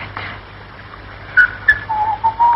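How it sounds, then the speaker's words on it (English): A person whistles a few short, thin notes, then a longer wavering tune, quiet against a faint background hum. "Oh, do stop whistling."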